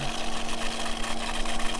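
A backyard pool pump runs as a steady, fairly quiet mechanical hum with a faint constant whine, alone and unbroken.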